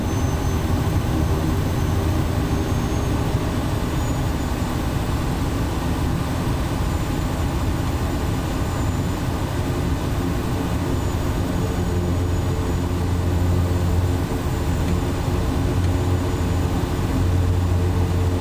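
Steady, heavy drone of a Kodiak aircraft engine running in the MSFS 2024 flight simulator, a constant low rumble with a faint high whine, holding level without any talk.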